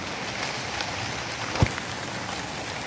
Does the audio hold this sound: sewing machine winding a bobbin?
no